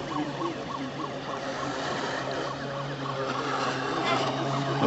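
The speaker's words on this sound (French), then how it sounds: "Petit coup de sifflet, Cyril, n'hésite pas." A steady, high steam whistle from a model steam launch (Krick Alexandra kit) sounds continuously over a low mechanical burner hum, holding one sustained note for several seconds.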